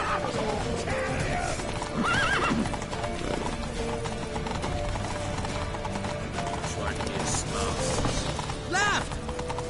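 A horse in The Witcher video game gallops with rapid clip-clop hoofbeats and whinnies twice, set against dense game music and effects while voices shout over the action.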